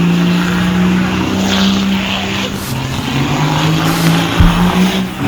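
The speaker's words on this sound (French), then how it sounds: "Et là le petit coup de frein à main hydraulique, regarde-moi ça comment le cul part." A drift car slides on a hydraulic handbrake pull, its engine droning steadily and loudly while tires squeal against the surface, with one sharp knock near the end.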